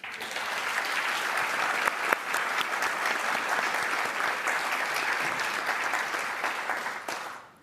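An audience applauds the honorees at a Navy Presidential Rank Awards ceremony, a full, sustained round of clapping that holds steady and then fades out at the end.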